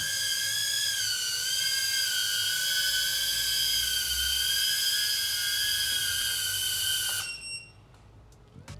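An Oxbot Lumo 18 micro FPV drone with a DJI system flies outdoors in a park. It gives a high, steady multi-tone whine like a small whistle, holding level for about seven seconds, then cutting off abruptly to near silence.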